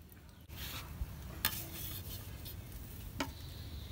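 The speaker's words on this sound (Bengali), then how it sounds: "ম্যাগি সিদ্ধ করা হয়েছে, এখন আমি তেল দিয়ে ম্যাগি গুনা ভাইজা নেব।" Boiled Maggi noodles frying in oil in a pan, a soft steady sizzle with occasional clinks and scrapes of a utensil against the pan.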